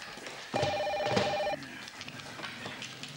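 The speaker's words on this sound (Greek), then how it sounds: "εγώ πάω να απαντήσω στο τηλέφωνο" An indoor telephone rings in one steady electronic trill lasting about a second, followed by quieter room sound with faint movement.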